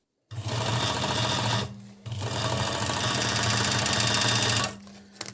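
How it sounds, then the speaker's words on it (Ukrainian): An Agat DonLock overlock sewing machine stitching and trimming knit fabric, a loud fast steady mechanical whir in two long runs separated by a brief stop, close up with no talking. "І шиємо. Ніж ріже без проблем."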